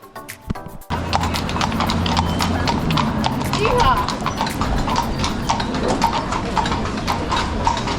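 Horse-drawn carriage hooves clip-clop steadily on a Vienna street, a regular rhythm of sharp hoof strikes close by over a busy city background, with people talking nearby.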